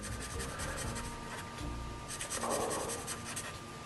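Pencil scratching across paper while sketching a dynamic comic-style figure pose, with steady close strokes and a denser burst of rubbing near the end, no talking.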